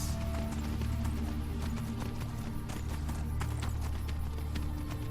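A horse in Skyrim walks with a steady clip-clop of hooves, close and continuous over a low rumbling game ambience.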